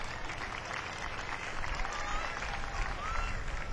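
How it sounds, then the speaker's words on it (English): Steady applause and crowd noise fill the grandstand throughout at a 2008 Tomato Festival parade, sustained and moderately distant, with no break. "How about a round of applause for Miss Napoleon City, Rachel Hoops?"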